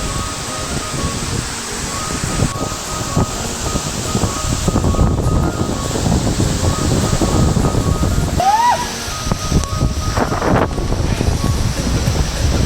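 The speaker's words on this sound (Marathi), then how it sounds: "हा सुंदर असा हा वॉटरफॉल खूप मोठा धबधबा आहे" A very large waterfall, Vadoli falls near the Gujarat–Maharashtra border, gives a constant broad roar of rushing water that holds loud throughout, mixed with gusty wind buffeting the microphone.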